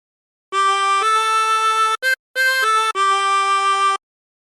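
Chromatic harmonica plays the fifth phrase of Amazing Grace as a row of sustained, reedy single notes with brief breath gaps, close and clear with no talk.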